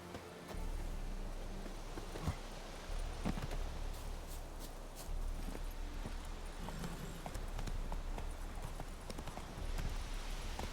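Roach, the horse in Witcher 3, galloping: a steady, rapid clip-clop of hooves running over ground, fairly close and continuous, with faint game ambience beneath.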